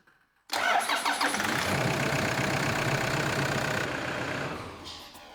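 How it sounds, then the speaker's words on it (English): A Toyota D4D diesel car engine cranks and catches after a brief silence, then settles into a steady, close idle that fades slightly near the end. "Then you start the car."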